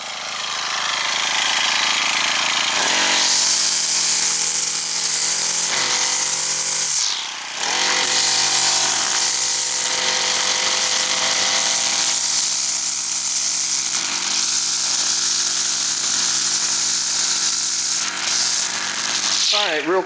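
A Honda string trimmer cutting along a grassy bank, its small engine screaming at high revs in a loud, sustained whine that dips briefly and recovers, running close and nearly unbroken throughout.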